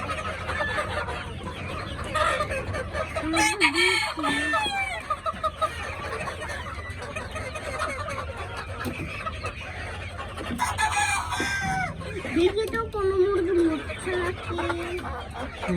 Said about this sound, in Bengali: আমার খামারের ভিতরের দৃশ্য দেখতে পাচ্ছেন সব মুরগিগুলো সামনে আসছে খাবার খাওয়ার জন্য